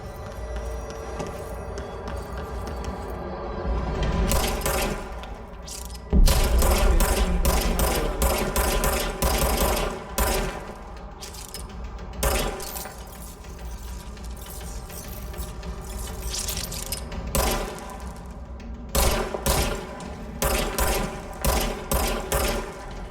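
Weapon fire in the video game Control comes in repeated rapid bursts of sharp mechanical clatter, separated by short pauses and running close and fairly loud over a low background hum.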